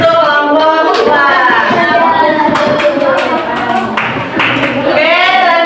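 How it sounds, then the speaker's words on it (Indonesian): A class group in a school session claps for a team in brisk, uneven applause, with voices calling out and cheering over the clapping. "kasih tepuk tangan untuk kelompok 2"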